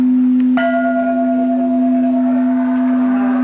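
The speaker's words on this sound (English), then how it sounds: "the citizens sounded the World Peace Bell" The World Peace Bell, sounded by citizens at a peace ceremony in Japan, gives a single clear strike that blooms into a long, steady ringing hum and fades slowly.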